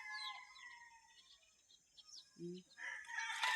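A rooster crows faintly in the distance amid other bird calls, followed by a few short clucks and a louder rustle at the end.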